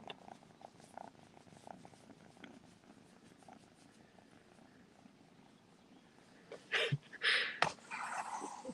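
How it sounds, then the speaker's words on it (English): A kitten purrs softly and steadily up close, followed by a few louder rustling and snuffling noises near the end. "You hear that purring, everybody?"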